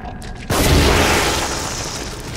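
A boom from an upgraded gun in The Evil Within, a loud sudden blast that rings out and decays slowly into a broad rumbling tail.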